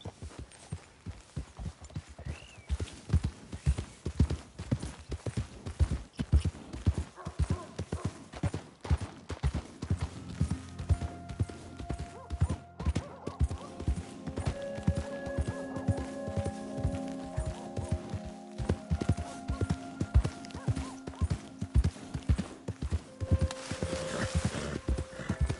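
Horse hooves clip-clop steadily in a video game, a brisk regular rhythm, close and clear, continuing throughout with faint tonal game sounds in the background.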